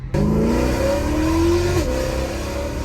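A BMW M3 E90/E92 engine with Valvetronic midpipes revs up with a rising, raspy exhaust roar, then drops back to a throaty idle, loud and close.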